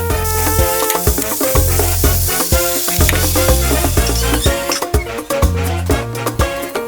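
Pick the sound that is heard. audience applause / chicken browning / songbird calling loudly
chicken browning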